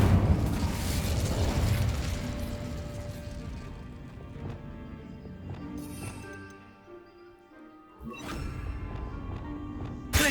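A fiery Incendio spell cast in Hogwarts Legacy, giving a dense burst of crackling flame and magical whoosh that fades into a quieter lull before another swelling blast near the end.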